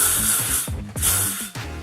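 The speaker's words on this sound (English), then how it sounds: "So I'm just going to spray that onto the hair" L'Oréal Paris Elnett Satin hairspray sprayed onto hair in short hissing bursts, close and fairly loud, with brief gaps and soft handling noises between sprays.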